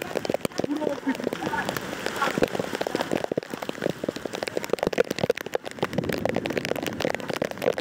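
Heavy monsoon downpour in Cox's Bazar, a dense, loud hiss of rain pelting surfaces with sharp drop spatters throughout, while a voice talks faintly underneath.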